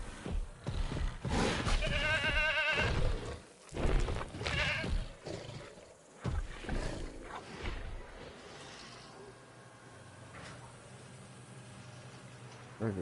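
In Jurassic World Evolution 2, a goat bleats loudly several times in quick bursts as a dinosaur kills it, followed by crunching sounds and then a quieter low ambient hum.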